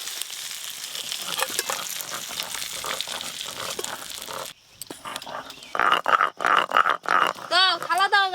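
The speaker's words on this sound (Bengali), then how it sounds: "চিংড়ি মাছগুলো ভালো করে ভাজা হয়ে গেছে।" Prawns frying in hot oil in a pan, a steady sizzle for the first half, then quieter spatters while people talk nearby.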